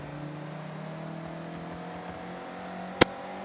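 Mazda MX-5 engine in the Forza Horizon racing game, a steady mid-pitched hum held at a constant tone throughout, with one sharp click near the end.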